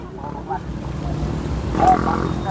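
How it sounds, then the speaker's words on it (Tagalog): Strong southwest monsoon wind roars across the microphone on a seaside boulevard in Surigao City, a constant rushing noise that swells slightly near the end. "Kusog hangin oh, habagat."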